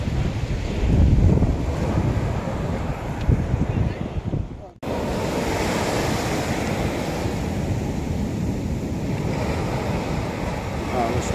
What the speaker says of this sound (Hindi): समुद्र का पानी इतना लहर मारता है कि जबरदस्त है।